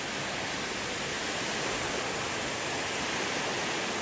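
River water rushes past the Dadong dam with its gates fully open, a steady, dense roar of broadband noise heard from close by with no breaks.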